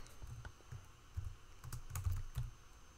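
Quiet keystrokes on a computer keyboard tap out in an irregular run of about eight clicks, close and soft, with no voice.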